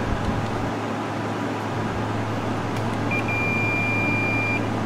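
A multimeter on continuity test emits a steady, thin electronic beep lasting about a second and a half while probing wiring in a Prelude synthesizer under repair, over a low background hum.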